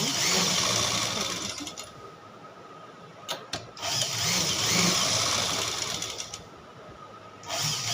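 A sewing machine stitches a blouse sleeve onto the armhole seam of a four-dart blouse. It makes a steady, close whirring hum in long runs, with a few brief stops and clicks in between and no talking.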